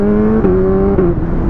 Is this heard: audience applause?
no